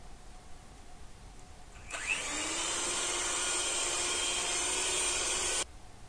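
An electric hand mixer whirs steadily for several seconds, beating leftover butter with milk chocolate for a chocolate cake frosting. The motor starts abruptly, holds an even, fairly loud buzz, and cuts off cleanly, with no talking.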